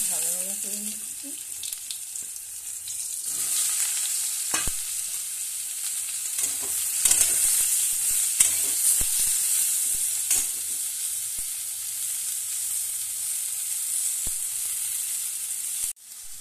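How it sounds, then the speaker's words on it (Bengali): Eggplant frying and being stirred in a pan, a steady close sizzle with scraping stir strokes throughout, prepared for a Chaitra Sankranti recipe; a brief voice is heard at the start. "এবার বেগুনগুলো দিয়ে ভাজা ভাজা করে নিচ্ছি।"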